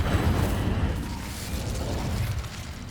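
A fire spell is cast in Hogwarts Legacy, a loud whooshing burst of flame that starts strong and settles into a rushing roar over a few seconds.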